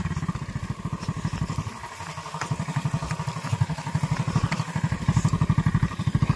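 A motorcycle rolling slowly while a boy learns to ride, its engine putting out a close, steady low thumping pulse that grows slightly louder and more regular toward the end, with no talk over it.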